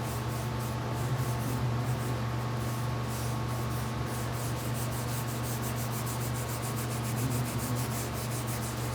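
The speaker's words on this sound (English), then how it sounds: "It is a scrubbing action, the tin, especially on the cast material here" Tin is scrubbed onto a cast babbitt bearing shell with a continuous, rhythmic abrasive rubbing, close and steady, over a constant low background hum.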